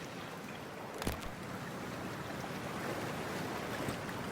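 Splashing entry into cold water in Cyberpunk 2077, a brief sharp splash followed by a steady wash of churning water and rushing noise, moderately faint and with no talking.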